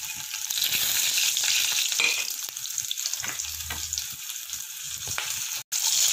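Oil sizzles and crackles steadily in a pan with biryani leaf, cumin, garlic and cloves for tomato rice, with occasional stirring clinks over the constant hiss.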